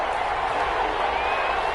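A brief swell of stadium crowd noise from the Madden football video game, a steady roaring cheer with faint clapping, no speech over it.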